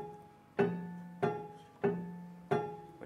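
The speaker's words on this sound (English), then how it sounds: "objects such as screws, bolts, little strips of rubber inserted between the strings in order to change the sound of the strings" Piano prepared after John Cage, with screws, bolts and rubber strips between the strings, struck four times at an even pace. Each note gives a sharp metallic attack and a buzzy, bell-like decay, heard close in a quiet room.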